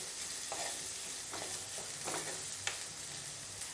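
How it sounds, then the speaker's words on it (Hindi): Chopped onion and garlic fry in a pan over medium-low flame, giving a quiet, steady sizzle with a few soft stirring scrapes throughout. "प्याज और लहसुन हमारे फ्राई हो रहे हैं,"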